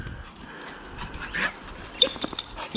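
A hairy dog whimpers outdoors in a few short, thin, high whines mixed with soft shuffling and clicks, fairly close and faint, with no talking.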